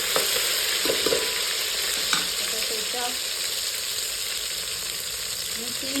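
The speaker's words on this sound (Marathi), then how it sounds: "आता लसूण घातला, थोडा हिंग घालायचा आणि आलं लसणाची पेस्ट थोडीशी चांगली परतून घ्यायची" Garlic, asafoetida and ginger-garlic paste sauté in a hot pan for a crab curry, giving a steady close sizzle and frying crackle with a few scraping stir sounds throughout.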